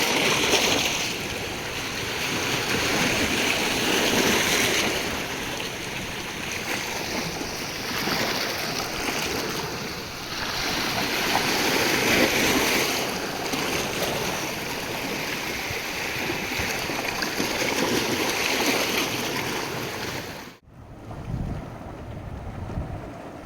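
Sea waves at a beach, heard as a continuous wash of surf with heavy wind buffeting the microphone, loud and steady before a sudden drop near the end; no talking is heard.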